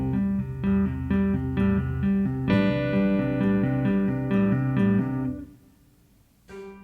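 Slowed-down guitar tapping passage: clean, evenly repeating tapped notes in a steady pattern, ringing for about five seconds before trailing off into near silence, with a faint pluck at the end.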